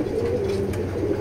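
A pigeon coos close by in a soft, throaty, rolling call that carries through the whole moment, with no voices over it.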